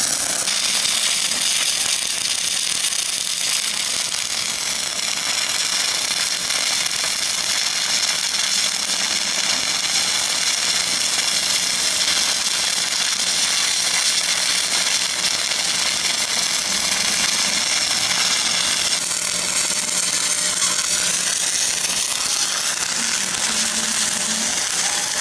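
Dual shield flux core welding on steel plate, a steady, loud, continuous crackling hiss with a dense buzzing texture that runs unbroken throughout, with no voices.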